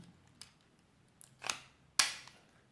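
A Ram 2500 key fob being reassembled with its key blade pushed back in: a few small plastic clicks, with the last one a sharp, close snap that rings briefly.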